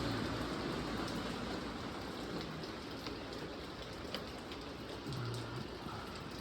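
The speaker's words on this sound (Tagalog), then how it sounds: "Umuulan-ulan pa." Steady light rain patters softly in a dense, even hiss in Wakayama, Japan, with no voices and only faint background noise.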